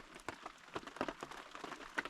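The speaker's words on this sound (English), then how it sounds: "Cooled off a little bit, and the rain slowed way down." Light rain eases off at a campsite after a hailstorm, with soft, scattered drops pattering irregularly on nearby surfaces at low volume.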